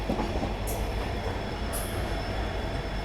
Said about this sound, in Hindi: हाई कैपेसिटी पार्सल वैन को हम ओवरटेक करते हुए निकल रहे हैं गुड़गांव से